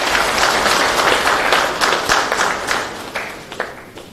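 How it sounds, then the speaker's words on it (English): An audience at a breakfast meeting claps for the housing minister, a full round of applause that starts dense and loud, then thins out into scattered claps. "Please give a round of applause for our minister for coming."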